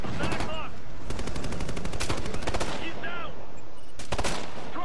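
Rapid automatic gunfire bursts from the Ghost Recon: Future Soldier video game, loud and repeated in several volleys with short gaps, with faint voices talking in the background.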